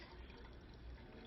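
Grape juice is poured into a restaurant glass, a faint, steady liquid splash that runs unbroken for the whole moment.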